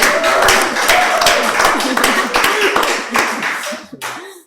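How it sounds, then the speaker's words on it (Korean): A small group of people in a church broadcast setting clap together in a brisk, close burst of applause, with voices talking and laughing over it before the clapping fades out near the end. "박수 한번 합시다"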